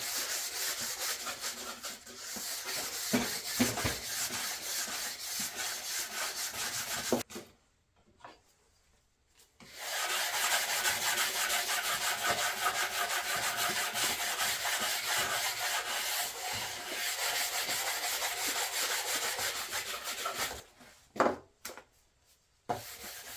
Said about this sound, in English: So wire brush, nylon, horsehair. Work that wax in.